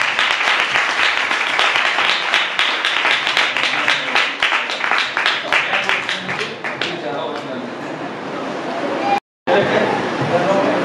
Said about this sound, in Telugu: దేవుని దాసులు వస్తూ కూడా చప్పట్లు కొట్టి దేవుని దాసులు ఆహ్వానించారు.